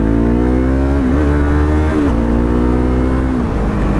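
A motorcycle engine runs loud and steady with a droning whine that shifts in pitch as the clutch is worked into second gear, the revs dipping and rising briefly as it pops and fails to engage.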